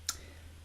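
A single crisp computer mouse click, close and quiet, over a faint steady hum.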